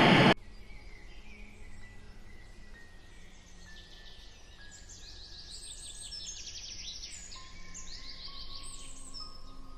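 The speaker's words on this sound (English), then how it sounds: "Bird noise is the right frequency, man." Chirping bird calls ring out from the video game Bad Parenting, faint repeated tweets over a low steady hum after a brief loud burst at the start.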